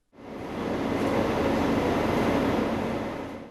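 A Doğu Ekspresi passenger train on the Ankara–Kars line rumbles steadily, a broad loud roar of rolling wheels that fades in, holds for several seconds and tapers slightly at the end, with no talking.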